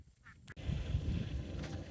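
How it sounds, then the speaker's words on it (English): Ducks or geese outdoors give loud, continuous honking and quacking from a close flock, sustained over the whole stretch after a brief quiet start. "Those ducks are not liking the water, so he's trying to train them to go into the water and be ducks"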